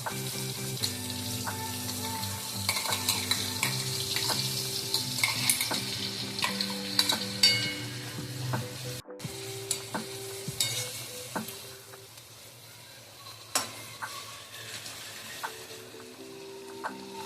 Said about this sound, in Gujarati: તેલ ગરમ થઈ ગયું છે. તેમાં આપણે કાંદા નાખશું.